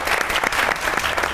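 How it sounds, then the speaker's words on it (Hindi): Applause from a studio audience at a Pakistani comedy talk show, dense steady clapping filling the short moment as a poet is welcomed on stage. "तो आपकी बहुत सी तालियों में दीवाने एंड ओनली आसिम बुखारी।"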